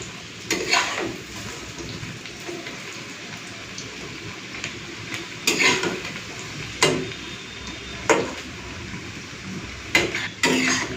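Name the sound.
lentil fritters frying in oil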